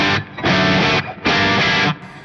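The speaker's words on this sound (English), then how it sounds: "I've got basically London plate reverb on the whole time." Electric guitar played through a London plate reverb on a Fractal FM9 modeller, two loud sustained strummed chords with a brief dip between them and a short reverb tail at the end.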